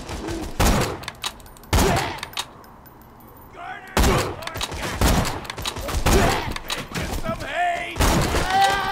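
Sharp, loud sniper rifle shots in the video game Borderlands 2 ring out several times at irregular intervals, mixed with impact thuds and short bursts of other gunfire.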